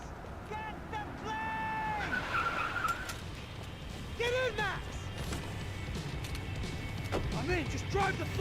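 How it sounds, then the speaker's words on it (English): Car skidding and tire squeal in the video game Max Payne 3, a sustained engine roar with several sharp screeching slides, loud and close, with voices talking over parts of it. "Just drive the fucking car!"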